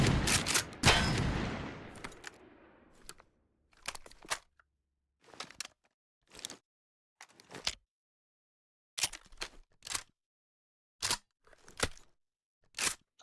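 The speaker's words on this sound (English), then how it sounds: "a pump shotgun. One that many will know. Because it's iconic. Oh, that reload sound is just wonderful." A pump-action shotgun in the TaCZ video game fires one loud blast with a long decaying tail, followed by a series of crisp, separate mechanical clacks and pump racks spaced out over the following seconds, with no talking.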